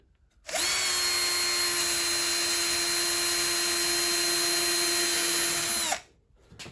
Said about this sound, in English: so now we'll do the small side with a small drill bit.